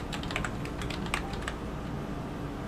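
Fast, steady clicking of computer keyboard keys, a close, quiet flurry of light taps with no voices.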